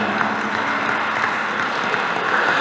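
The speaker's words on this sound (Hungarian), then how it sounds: "Köreinkben egy nagy taps önöknek is" Dense, continuous applause from a crowd at a sports ball, a steady wash of many hands clapping together that stays loud and even for the whole stretch.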